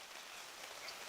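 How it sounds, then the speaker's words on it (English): Steady rain falling at an outdoor women's lacrosse match, a continuous even hiss of drops on surfaces with no voices, constant in level throughout. "A steady rain for the last 2 hours."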